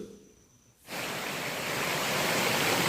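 A small stream flows along the edge of a rural plot with rubber trees, its broadband rush of water starting abruptly after a quiet moment and then holding steady, close and alone.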